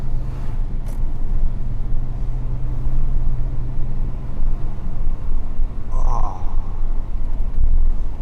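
A Mercedes-Benz W126 500 SE with a V8 engine hums steadily from inside the cabin while driving, its low rumble shifting briefly as the gear changes partway through.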